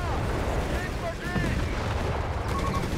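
Battle gunfire in Company of Heroes 3, with Afrika Korps guns firing against US forces around a Panzer III, forming a dense, rumbling barrage of shots and blasts under a commentator's talk.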